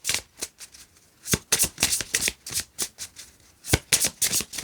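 Tarot cards are shuffled by hand in repeated quick riffling bursts, close and crisp, with short pauses between the flurries.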